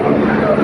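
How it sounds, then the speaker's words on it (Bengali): A helicopter lands on a village football field, its engine and rotors giving a loud, steady, close roar in a brief burst. "হেলিকপ্টার অবতরণ করছেন সচিত্র প্রতিবেদন আমি দেখাচ্ছি গল্লির মাঠ থেকে"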